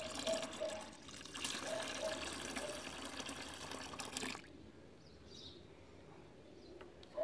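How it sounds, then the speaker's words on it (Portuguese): Water poured steadily into a homemade floor-cleaner mixture, a continuous splashing pour that runs for about four seconds, then stops abruptly, leaving quiet room tone. "Agora, gente, eu vou colocar mais 1 litro de água."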